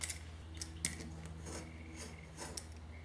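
Thin wood veneer being cut by hand, a series of faint crisp snips and rasping strokes at an uneven pace, close but quiet, with no voices.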